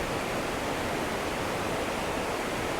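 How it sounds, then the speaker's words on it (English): Steady broadband roar of the Mae Klang Waterfall's upper cascade in Doi Inthanon National Park, Chiang Mai, Thailand, close and continuous with no voices. "The cascade above the waterfall."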